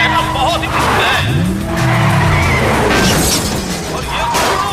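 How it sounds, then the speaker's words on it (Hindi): Race cars collide in an action movie scene, with loud tire squeals, engine roar, crunching impact and shattering debris in a dense, continuous mix. "और ये दोनों गाड़ियों के बीच जबरदस्त टक्कर हुई है।"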